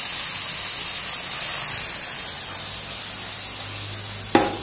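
Washed vegetables hit a hot pan in a home kitchen, raising a loud, steady sizzling hiss that eases slightly and ends with a sharp clack.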